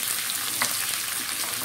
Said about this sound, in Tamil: இப்போ சிறிதளவு வெங்காயம், அது நல்லா சிவந்து வதங்கணும்.